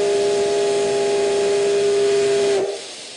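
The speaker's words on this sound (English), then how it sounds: "A steam locomotive runs through the hills of Iwate Prefecture." A steam locomotive's whistle blows one long, loud, steady note with hissing steam in the hills of Iwate Prefecture, Japan, then cuts off near the end.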